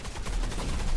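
Rapid gunfire from Gun Raiders VR, a virtual reality shooter, rattles in a dense burst of loud, closely spaced shots filling the whole second.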